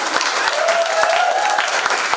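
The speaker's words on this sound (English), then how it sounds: "Give yourself a round of applause" Audience applause at a spoken-word event, dense clapping at a steady level with a few cheers mixed in, lasting a couple of seconds.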